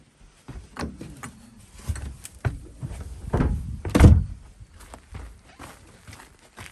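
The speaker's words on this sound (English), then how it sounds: "I opened their door" A chicken coop door is opened in the dark on a snowy Alaskan morning, giving a series of wooden thunks and knocks with a heavier bump near the middle, plus scuffing footsteps and no speech.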